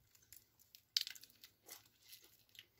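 Someone crunches on a crisp frankfurter snack from a 1993 US military MRE that tastes like potato chips, giving several close, dry crackling bites at irregular intervals, with one sharp louder crunch.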